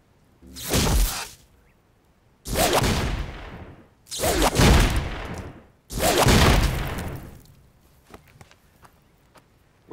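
Gunshots fired at a target about 60 to 70 yards downrange, four loud separate blasts, each trailing off into a long rolling echo, spaced a second or two apart.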